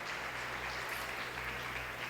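A church congregation applauding during a service, a continuous dense wash of clapping that sounds broad and somewhat distant, over a low steady hum.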